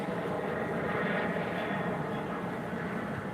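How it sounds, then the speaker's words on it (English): Airplanes flying overhead, a steady broadband engine roar that fills the whole stretch at even loudness, sounding fairly near and alone with no talk. "More airplanes, guys, more airplanes."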